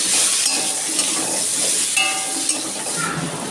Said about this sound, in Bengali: আলুটা আমি এখন ভেজে নিচ্ছি